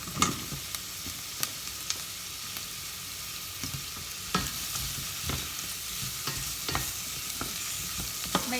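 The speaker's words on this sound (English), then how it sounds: "So I've got the onions going in first, and popping those in to saute them a little bit." Onions and leeks sautéing in a soup pot for celeriac soup, with a soft continuous sizzle and scattered clicks of stirring throughout, no voices.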